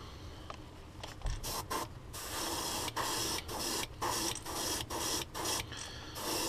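A heat gun is heat-setting paint on a crankbait fishing lure, a close, loud, steady airy hiss broken by brief dips and small clicks as the gun is moved.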